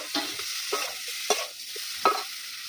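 Fried cauliflower, potatoes, tomato and peas being sautéed in a pan with turmeric, with a spatula scraping and stirring in several distinct strokes over a soft sizzle, close and fairly quiet.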